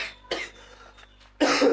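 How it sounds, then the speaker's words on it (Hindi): A person coughs in sharp bursts: one cough, a quieter pause with small throat sounds, then a louder, harsher cough at the end, close and alone with no speech. "खांसी बहुत हो गया है इस वीडियो में"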